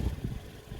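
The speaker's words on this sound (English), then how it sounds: "Seems to be idling a little bit low, but it needs to warm up" A Datsun 120Y fitted with an L18 engine and a Weber 45 carburettor idles low and a little rough while still cold, a close, deep, uneven rumble over a brief moment.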